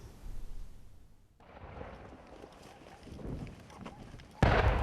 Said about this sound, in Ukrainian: Водяне зустрічає журналістів гуркатом снарядів та стріляниною